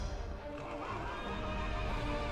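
A large horse in Final Fantasy XIV lets out a long, loud, wavering whinny over steady ambient game sound, with no talk.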